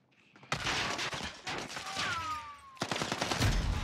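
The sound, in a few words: gunfire in Warzone video game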